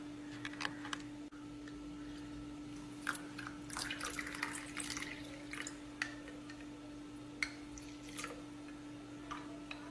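Water trickles and drips in short, irregular splashes close by as it is poured into hibiscus juice, over a steady low hum in the room.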